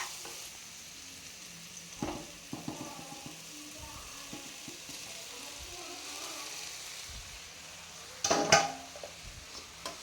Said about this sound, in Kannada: ಅವಲಕ್ಕಿ ಕೂಡ ಚೆನ್ನಾಗಿ ಬಿಸಿ ಆಗಬೇಕು, ಅಲ್ಲಿ ತನಕ ನಾವು ಫ್ರೈ ಮಾಡ್ಕೊಬೇಕಾಗತ್ತೆ